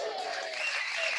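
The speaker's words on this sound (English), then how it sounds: "Let's give Pam a round of applause." A crowd at a Tea Party tenth-anniversary gathering claps for Pam Clark after her raffle number is drawn, a short dense burst of applause filling the whole moment.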